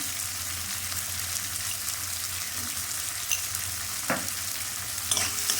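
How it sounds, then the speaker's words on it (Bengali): Onions frying and being stirred in a pan with salt for a Bata fish kalia, a steady close sizzle throughout with occasional scraping stir strokes near the end. "1 মিনিট পর পেঁয়াজ নেড়ে দিলাম।"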